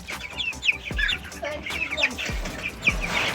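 Chickens cluck and chirp in an urban poultry house, a busy flock heard close, with overlapping calls and scattered low thumps throughout.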